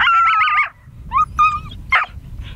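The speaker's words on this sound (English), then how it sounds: "Gotta wait for the dogs." Hunting dogs bark, yip and whimper during a decoy coyote hunt, with a sharp run of close barks at the start followed by scattered higher yips and whines against a low rumbling background.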